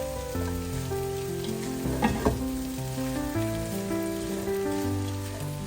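Ingredients for chicken noodles sautéing in a pan give a loud, continuous frying sizzle close by. A few brief stirring clatters come near the middle, and no one talks.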